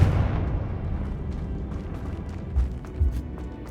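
In the video game Hogwarts Legacy, a Confringo spell explosion bursts with a heavy rumbling boom, followed by a decaying roar and two smaller thuds near the end, with no one speaking.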